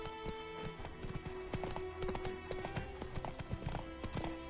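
Hooves of Roach, Geralt's horse in The Witcher 3, clip-clop in a steady trotting rhythm, close and clear, with no talking over them.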